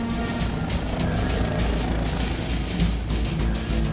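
Helicopter hovering in the shooter game Crossfire Legion, a steady low rotor thrum and engine drone filling the whole stretch with faint scattered game sounds on top.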